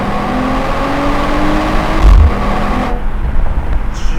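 A 2025 Mercedes-AMG CLE 53 convertible in Sport Plus mode pulls hard from inside the cabin, a loud, steady engine drone with a rising pitch, a gear shift at about two seconds, then continued strong acceleration with wind and road noise.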